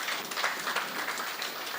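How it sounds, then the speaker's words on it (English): Audience applause at a community share ownership programme event held by a ministry of industry and commerce, a steady wash of many hands clapping throughout, moderately loud with no voices over it. "Another round of applause for him"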